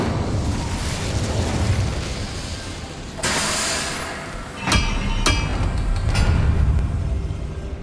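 An Incendio fire spell is cast in a Harry Potter video game, giving a fiery whooshing burst around the three-second mark followed by sharp cracks and popping bursts over a steady rumbling background.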